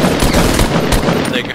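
An assault rifle fires in Fortnite, a loud, continuous burst of rapid shots packed tightly together with a few sharper peaks, filling the whole moment.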